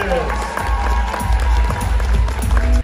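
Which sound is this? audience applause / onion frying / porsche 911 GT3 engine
audience applause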